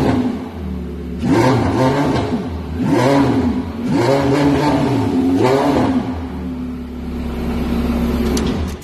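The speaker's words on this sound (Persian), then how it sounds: "قبل از اینکه ماشین رو من روشن بکنم" A 2015 Porsche 918 Spyder engine, loud and close, rising and falling through several sharp revs with a whirring hybrid whine, then settling to a steady idle.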